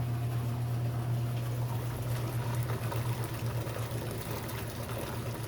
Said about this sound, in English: As you can see, the water is now rinsing